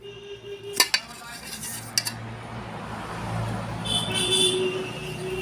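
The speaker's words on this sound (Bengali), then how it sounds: "তো ভাত বাড়ছি এটা হচ্ছে আমার থালা" Rice is served onto a plate with utensils in a home kitchen, giving a few sharp clinks of metal on the plate followed by softer scraping and handling under low background noise.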